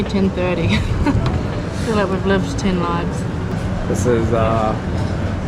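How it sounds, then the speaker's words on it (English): A train passes through Vernazza station in the Cinque Terre, Italy, its steady rumble filling the background while people talk nearby. "and the train comes through"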